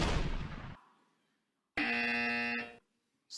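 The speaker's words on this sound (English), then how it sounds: "On the next one, hands on the buzzer." A quiz buzzer at a campus quiz competition sounds once, a loud, steady electronic tone lasting about a second, after a burst of noise and a short silence, with another tone starting at the very end.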